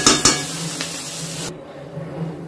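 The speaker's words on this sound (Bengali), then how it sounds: "আর একটু ভালো করে নেড়ে নিয়ে আমি সবজিগুলো তুলে নেব।" Fried vegetables stirred in a pan for veg pulao, two sharp utensil scrapes at the start over a soft sizzle, which then quiets to a faint low hiss, close and without talk.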